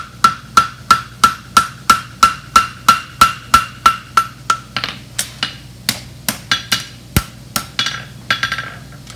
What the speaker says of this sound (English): Grab it here at the heel nail and start forging.